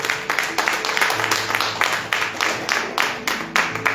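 Congregation clapping in a Spanish-language church service, rhythmic unison claps in steady beats with a low musical hum beneath, loud and close.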